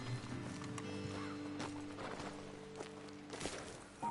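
Horses stand and shift on a ledge after their riders dismount in Red Dead Redemption 2, with faint hoof clops, a soft whinny and snorts over quiet game ambience and a low musical hum.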